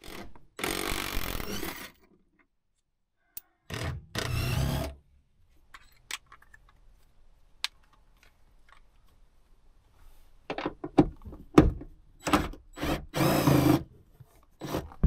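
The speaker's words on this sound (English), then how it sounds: "I just got to finish removing the bolts." A wrench works on the seat bolts of a Nissan Frontier, giving several short bursts of ratcheting and rasping metal noise separated by quiet pauses, close up and with no talking.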